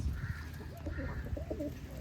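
A pair of pigeons coo softly and repeatedly, close by, against a low background hum.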